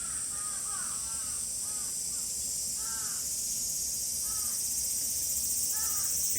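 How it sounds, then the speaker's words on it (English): A big crow in the Keitakuen Japanese garden in Osaka caws again and again in short hoarse bursts at irregular intervals, set against a loud, constant high buzz of insects. "There's a big crow."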